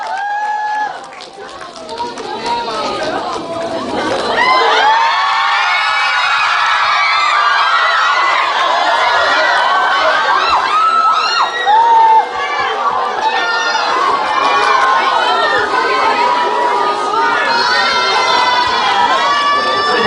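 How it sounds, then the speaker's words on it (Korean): Audience at a Korean cinema actor-talk event at CGV Piccadilly cheering and applauding loudly, with shouts and whoops from a dense crowd sustained throughout, voices calling out over the roar. "박수"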